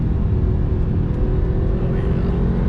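Porsche 991.2 Carrera engine dropping down to second gear while driving, a steady low rumble and whir from inside the cabin with little change in loudness.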